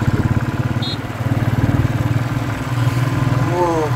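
A motorcycle on a hilly valley road is shifted down a gear without the clutch. Its engine chugs with a close, steady pulsing beat, and the tone shifts in pitch toward the end.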